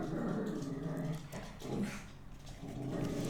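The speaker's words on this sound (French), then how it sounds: "Mon chien qui est pas content." A pet dog growls low and steadily indoors, a continuous rumbling grumble with faint whimpering edges, fairly quiet and close, no talk over it.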